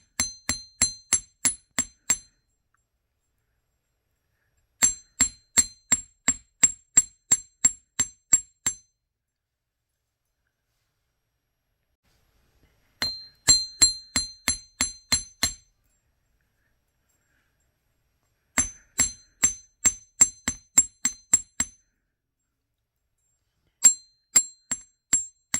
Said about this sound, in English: hammering it is going to change its shape a little